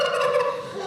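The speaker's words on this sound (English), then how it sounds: "the joyful sounds of the presidential turkeys" Turkeys spared at a presidential pardoning gobble in a short, loud, close burst of warbling calls, with no talking over them.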